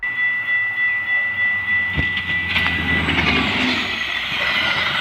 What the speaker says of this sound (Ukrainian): Це поїзд, який їздить на довгі дистанції з даунтауну в Іллінойс і назад.